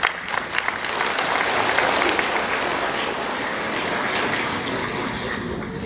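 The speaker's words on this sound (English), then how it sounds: "Give him another round of applause, folks." A room full of people at a talk in Nonthaburi, Thailand applauds continuously, a dense, even patter of clapping that holds steady throughout without any speech.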